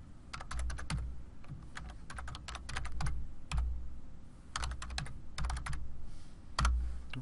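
Bursts of typing on a computer keyboard enter an email address, with quick runs of close, crisp key clicks separated by short pauses.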